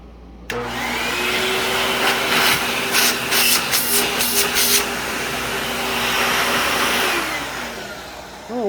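An old Hoover vacuum cleaner switches on abruptly and runs with a steady, loud motor whine and airy rush, its pitch shifting slightly as it works, then winding down near the end.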